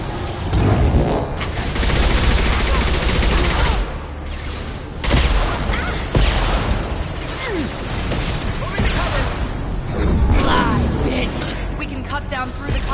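Rapid gunfire from a Mass Effect 2 combat sequence, with sustained bursts and heavy booms that rise and fall over loud action noise, briefly dropping near the start and middle before resuming, while a voice talks in between.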